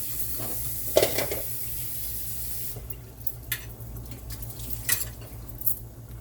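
Brussels sprouts cook in butter sauce in a covered pan, giving a steady low bubbling and hiss with occasional sharper sputters and a few light clinks.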